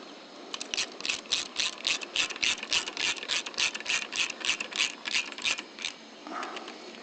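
A hand ratchet clicks in fast, steady bursts, about twenty close, crisp strokes, while driving in clutch bolts on an SSR Buccaneer motorcycle in a garage.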